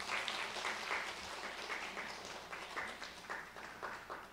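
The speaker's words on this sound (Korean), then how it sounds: "박수로 격려하실까요?" Congregation at a Korean church service applauding one another, a quiet, uneven patter of clapping from many people, with individual claps audible in rhythmic bursts.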